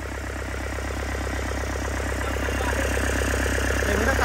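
A Yanmar 4TNV98 turbo diesel engine, original and unmodified, idles steadily with a smooth, even rhythmic chug that grows slightly louder, close by with no talk.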